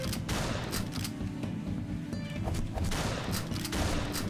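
Enemy gunfire in the stick-figure shooter Ballistick: a dense, sustained volley of rapid shots that roars on without pause for several seconds, loud and close, with no voices over it.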